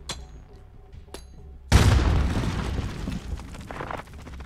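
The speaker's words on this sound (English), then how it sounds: "I hear more gunfire though in the area." A sudden loud burst of gunfire in the video game Call of Duty Warzone erupts after quiet clicks, a dense crackling blast that rolls on and gradually tapers off.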